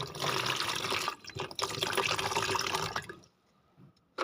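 Water pours steadily into a toy car, a close, bright splashing rush for about three seconds with a brief break, then stopping to near silence.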